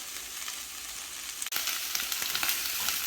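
Half a cabbage sizzles hard in a hot pan with garlic and ginger paste, a dense steady hiss with one brief cut-off midway and faint clinks after, no voices.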